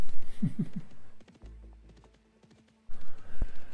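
Rapid rhythmic hoof clops from a galloping horse in the video game Dark Age of Camelot, fairly close, with a pause in the middle before the clatter resumes.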